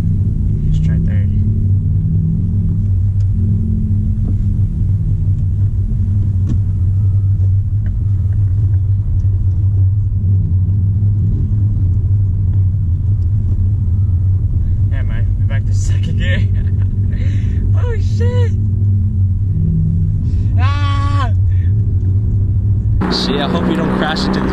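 Steady low engine rumble from a Honda Civic Type R cruising in third gear. It runs continuously under talk inside the cabin, with laughter near the end.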